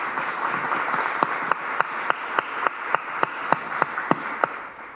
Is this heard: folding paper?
no